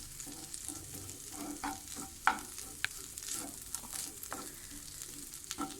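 Chillies frying in hot oil for a village-style prawn dish: a soft, continuous sizzle broken by scattered sharp clicks of a spoon stirring the pan, fairly quiet and close, with no talking.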